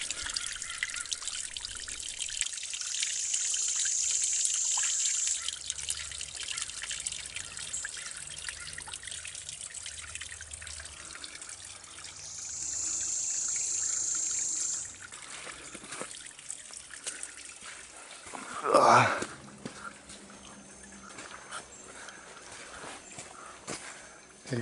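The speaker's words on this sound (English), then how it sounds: "Ooh, but we got some pretty waterfall in here." A small waterfall trickles along a hiking trail in Georgia, a steady faint wash of falling water continuing throughout with a brief louder rustle near the end.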